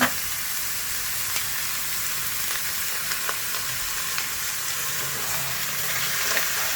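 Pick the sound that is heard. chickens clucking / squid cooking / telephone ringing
squid cooking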